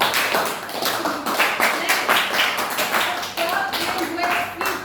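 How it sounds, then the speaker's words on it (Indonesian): Classroom applause from a group of students, a brisk run of many overlapping claps lasting several seconds, fairly close and loud, with voices mixed in. "Give applause for us."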